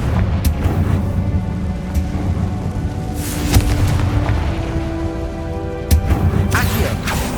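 A Confringo explosion spell goes off in the video game Hogwarts Legacy, a loud blast with a booming, rumbling body and sharp crackling bursts, set over constant heavy game noise.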